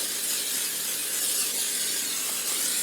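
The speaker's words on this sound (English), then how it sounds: "in a baking pan, I'm going to spray this with some canola oil." A continuous hissing spray of canola oil from a can into a baking pan runs for a few seconds, steady and close.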